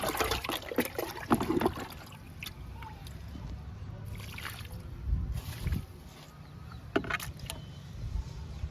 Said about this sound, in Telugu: ఇది కిచెన్ వేస్ట్ లిక్విడ్. ఈ లిక్విడ్ కూడా ఇచ్చేద్దాము.